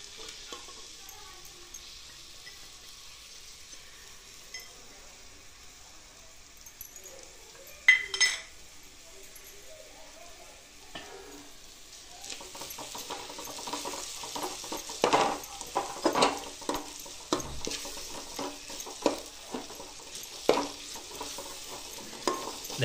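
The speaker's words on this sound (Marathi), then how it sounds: "मटकी चांगली परतून घ्यायची." Sprouted moth beans being sautéed in a pan for Marathi matki rice: soft sizzling with scraping spoon strokes and occasional clinks against the pan, louder in the second half, and no talking.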